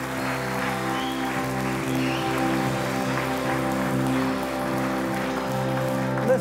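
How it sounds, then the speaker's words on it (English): A church congregation gives a clap offering on a Sunday morning, with dense sustained applause like rain over a held organ or keyboard chord, lasting the whole stretch without talk. "Can we give the Lord a clap offering this morning?"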